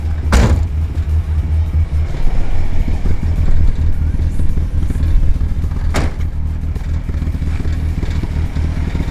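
A Toyota Corolla notchback sleeper fills the scene with a loud, continuous engine drone. Two sharp bursts cut through it, one near the start and one later on.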